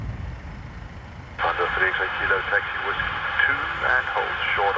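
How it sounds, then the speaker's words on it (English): Band-limited air traffic control radio chatter at Dublin Airport on a wet, gusty day cuts in partway through, clipped transmissions over a low background rumble, with a person talking nearby. "Shouldn't be talking over the ATC."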